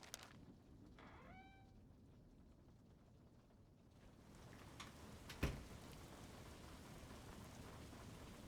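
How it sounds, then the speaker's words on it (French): Heavy rain in the Roblox game Expedition hisses steadily and softly throughout. A brief rising, meow-like cry comes early, and a single dull thump lands midway. "Il pleut des cordes dehors."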